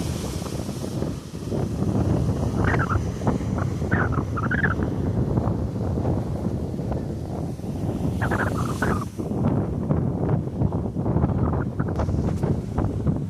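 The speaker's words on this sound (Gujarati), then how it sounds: "મોજા ઉછળે જુઓ, ખાલી પવન એ બહુ ઝાઝો આવે છે." Strong wind roars and buffets the microphone while rough sea waves rush and break underneath at the Jafrabad coast, Gujarat, a loud, steady outdoor din with no pauses.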